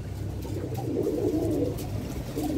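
Pet pigeons pecking at homemade grit of eggshell and salt, with soft continuous cooing close by against a low background murmur, no speech.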